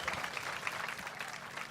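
Crowd at a Bassmaster Elite fishing weigh-in on Lake Guntersville applauding angler Chad Morgentaler, a steady wash of clapping heard from some distance, with no voices over it.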